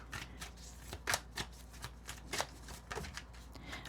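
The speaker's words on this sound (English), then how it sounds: "let's go ahead and get a few more cards out here" Tarot cards being drawn and flicked from a deck, a quick series of crisp close slaps and shuffling rustles at irregular intervals over low background hum.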